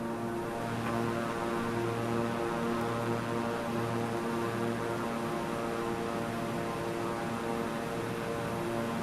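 A Beechcraft aircraft engine in a flight video game, a continuous even propeller drone with a steady tonal hum. It holds level throughout, with no voices.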